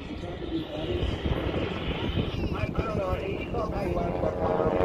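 Aerobatic airplane engine at the Wings Over Whiteside air show, droning steadily through a loop maneuver, loud and continuous under a crowd and excited talk.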